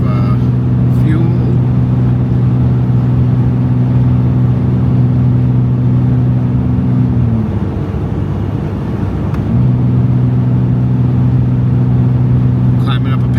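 A car engine drones steadily while climbing an unplowed, snowy mountain pass, a loud constant low hum that dips briefly midway before resuming.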